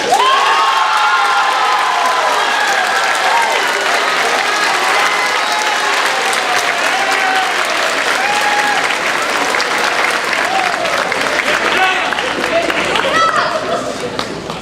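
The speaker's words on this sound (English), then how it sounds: "Give another round of applause." Sustained applause from the audience at a high school band awards evening, dense clapping mixed with cheers and shouts and a few voices in the crowd, loud and close throughout, easing slightly at the very end.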